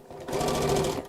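A sewing machine runs a short burst of stitching on a fat quarter fabric tote bag, a steady mechanical whir lasting about a second, close and fairly quiet.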